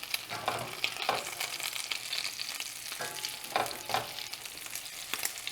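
Shrimp cakes frying in a pan, giving a steady, dense sizzle with occasional louder crackles and pops, close and continuous with no talking.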